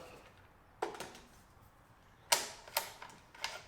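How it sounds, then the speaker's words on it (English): A few sharp metallic clicks and snaps from the bolt release lever of a Tikka T1x rimfire rifle with a synthetic stock, spaced irregularly and heard up close against near silence. "On the other side is the bolt release lever,"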